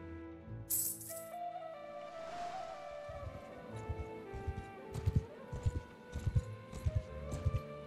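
Horses ride along in the video game Mount & Blade 2, their rhythmic hoof clip-clop thudding in a steady beat that grows denser toward the end, mixed with rattling tack and game background ambience.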